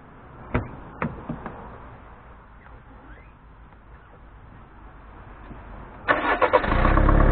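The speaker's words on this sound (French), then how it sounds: "Je vais redémarrer la voiture" A 2008 Citroën C5 being restarted after an automatic gearbox oil flush: a few faint clicks and cranking taps, a quiet pause, then the engine catches and settles into a louder, steady idle near the end.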